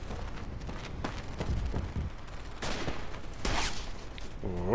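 Gunfire crackles through a battle in the World War I shooter Verdun, with scattered shots and dense volleys, some close and sharp, others distant, over a continuous rumbling battlefield background.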